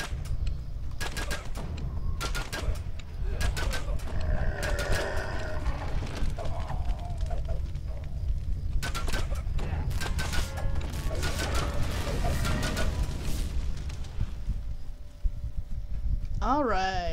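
Crossbow bolts loose in a Dungeons and Dragons Online fight, sharp repeated mechanical clacks and snaps scattered through the clip over steady game ambience, with people talking throughout.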